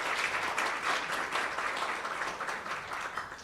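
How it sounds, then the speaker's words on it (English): Audience applauding essay contest winners as they are called onto a stage, a steady, dense wash of clapping that holds throughout and tapers slightly toward the end. "We're going to applaud for them"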